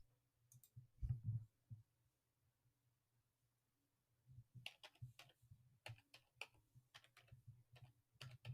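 Someone types slowly with only the left hand on a computer keyboard, producing quiet, irregular keystroke clicks: one brief burst early on, then a pause, then a longer scattered run of taps, close by with no talking.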